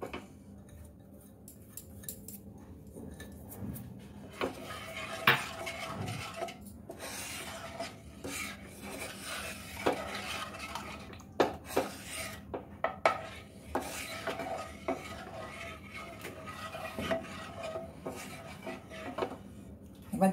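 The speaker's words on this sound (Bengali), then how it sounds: "এর মধ্যে আমি কিছুটা গুঁড়ো দুধ দিয়ে দেবো, ভালো করে মিশিয়ে নেবো।" Milk powder being mixed in a bowl for malai sandesh, heard as soft scraping and rubbing strokes with occasional light clinks of utensil against the dish, quiet and close, continuing irregularly throughout.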